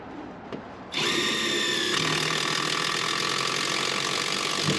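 Power driver tightening a bolt on a generator's battery charger, starting abruptly after a second of quiet and whirring steadily and loudly to the end, with a slight change in pitch midway.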